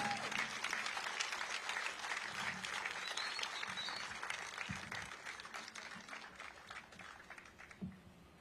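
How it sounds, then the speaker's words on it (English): An audience at a formal civic ceremony bursts into sustained applause honoring a retired nurse and former senator, a dense wash of clapping that stays strong before gradually thinning and fading. "Give her a round of applause."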